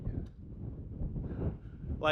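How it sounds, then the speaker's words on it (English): Strong Mojave Desert wind buffets the microphone in low, roaring bursts that swell and fade, with a brief higher rustle at the end. "But it is stupid windy"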